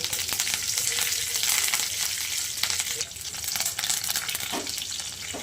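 Cumin seeds, garlic and curry leaves sizzle steadily in hot oil during tempering for a dal, a loud continuous crackling fry with no talk over it.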